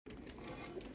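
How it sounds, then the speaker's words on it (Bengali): Amasha breed pigeons coo softly and steadily at a home loft in Lalbagh, Dhaka, a low continuous murmur with faint background noise. "আমি একটা দেখাই কবুতর, হ্যাঁ আমাশার কবুতরই তো ঘুরে ফিরা"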